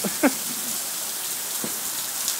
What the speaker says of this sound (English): Look at that rain going across the track.